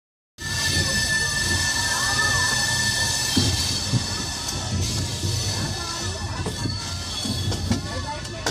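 Doon Express sleeper train on the Haridwar route, heard from inside during a halt at Ayodhya Cantt station, a steady rumble with faint squeals and a few knocks, alongside people talking.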